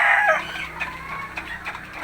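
A rooster crows loudly at the start, followed by scattered clucks and chicken calls in a backyard over a steady low background hum.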